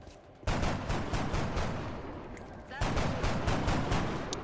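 Gunfire in the video game XCOM Enemy Within, with a dense burst of rapid shots starting abruptly, a brief pause, then a second loud volley, all close and continuous.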